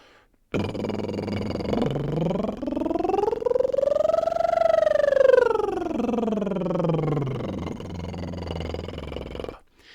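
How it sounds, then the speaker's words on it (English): A voice performs a buzzing lip trill that glides smoothly up in pitch, peaks, then slides back down, steady and close for several seconds. "So our first option is to make a trill with our lips."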